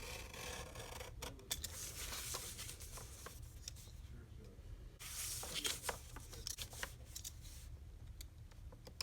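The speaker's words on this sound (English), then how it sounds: "The inner square that we see, we're going to just cut that out." An inner square is cut out of paper with scissors in quiet, uneven bursts of snipping and rustling at close range over faint background noise, with a voice talking in places.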